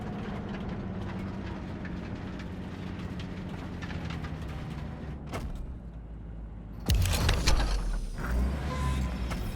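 A train running through a city in the video game Cyberpunk 2077, a steady low rumble that swells into a louder clattering rush near the end, with no one talking.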